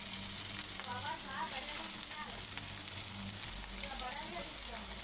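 Mutton keema balls deep-frying in a small amount of oil give a steady, dense sizzle and crackle throughout, with faint talk in the background.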